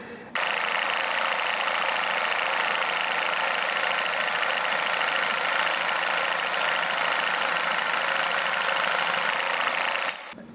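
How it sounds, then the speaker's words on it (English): A steady, even mechanical hiss and rapid chuffing of a small model steam engine running on compressed air, continuous and close, starting and stopping abruptly. "So I'm going to show you the engine running on air."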